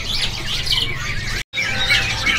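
Mantel laughingthrush (poksai) calling at the Pramuka bird market, bright squawking chirps filling the clip amid a noisy market background, with a brief gap of silence midway.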